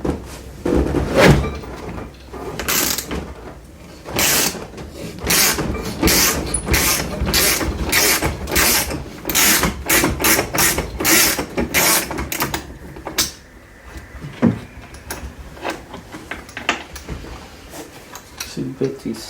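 Ratchet loosening the 17 mm seat belt anchor bolt inside an Acura NSX during a seat skin install, a rapid series of sharp clicking and clacking bursts close to the microphone, with brief pauses between runs.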